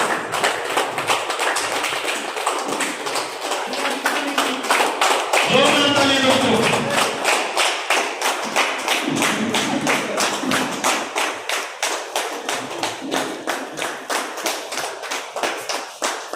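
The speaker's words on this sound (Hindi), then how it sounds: "तालियां रुकनी नहीं चाहिए।" An audience at a stage event claps steadily for a guest called up, a dense run of rhythmic hand claps lasting throughout, with a brief burst of voices or cheering partway through.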